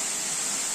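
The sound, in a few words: large waterfall in the Uch-Kosh gorge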